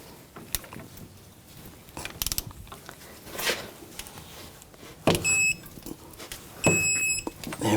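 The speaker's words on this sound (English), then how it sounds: "we're going to torque this nut to 310 foot-pounds" A torque wrench tightens a front axle nut to 310 foot-pounds on a 2000-2006 BMW X5, giving a few scattered mechanical clicks and metallic clatters, followed by two louder bursts near the end, with no talk.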